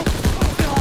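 Rapid automatic gunfire and fusillade bursts in a World War II shooter game, Call of Duty: WWII, with several heavy volleys pulsing in quick succession, loud and dense with no clear talk.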